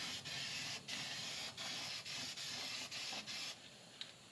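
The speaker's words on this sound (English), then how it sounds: "We're spraying. Just trying to slow down any of the old rust that's happening here." An aerosol can sprays rust-slowing coating onto the old metal of a 1972 Monte Carlo, the hiss coming in close, repeated bursts of about half a second with brief gaps between them.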